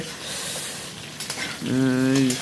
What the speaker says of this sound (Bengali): এই যে দেখো আমাদের রান্না চলছে